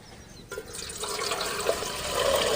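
Water poured into a cooking pot set on a lit stove, a steady broadband pouring wash that starts abruptly and grows slightly louder, close by, with no talking.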